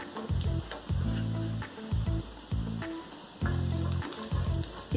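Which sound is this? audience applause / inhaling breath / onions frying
onions frying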